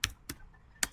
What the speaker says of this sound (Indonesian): Kita bisa ketikkan network